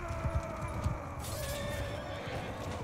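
Horses neighing in the medieval battle game Mount & Blade II: Bannerlord, with several short whinnies over a steady background din of battle and a few soft hoof thuds, moderately loud and without talk.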